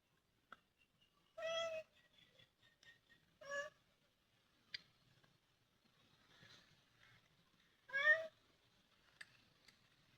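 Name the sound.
cat meowing near fish being cleaned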